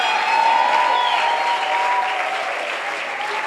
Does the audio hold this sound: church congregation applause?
yes